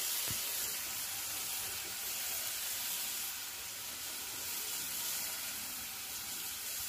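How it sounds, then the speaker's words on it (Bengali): Fried koi fish slipped into a pan of shallow simmering curry water in a village kitchen, giving a soft, steady sizzle and bubbling hiss that stays faint and even with no talking. "এটা আমি দিয়ে দিচ্ছি মাছটা, জলের সঙ্গে ফুটে দেবো।"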